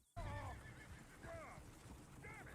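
In Red Dead Redemption 2, a horse whinnies and neighs three times over a steady rushing outdoor ambience, with faint hoof clops underneath and no talk.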